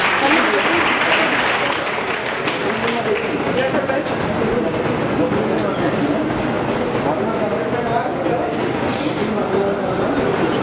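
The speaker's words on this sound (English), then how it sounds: "Give them huge round of applause." Sustained applause from an audience at an engineering college award ceremony, dense steady clapping filling the whole stretch with a few voices mixed into the crowd noise.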